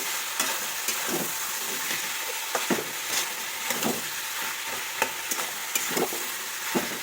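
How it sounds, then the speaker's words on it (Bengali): Chickpeas (chana) being stirred in a hot pan, a steady frying sizzle broken by repeated scraping clicks of the spoon at an irregular rhythm, close and fairly loud, with no talking. "এটাকে একটু একদম নাড়াচড়া করে নিই একটু সুন্দর করে"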